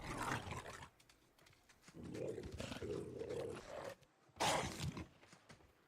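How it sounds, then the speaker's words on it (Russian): A wolf in the video game Days Gone growls and snarls close up in several rough bursts, separated by short quiet gaps. "Второй волчара, походу, прибежал."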